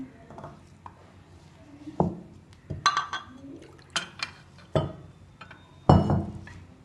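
Water is poured into a bowl of flour and salt for dough, with intermittent splashes, drips and light clinks of glass or utensils close by over several seconds.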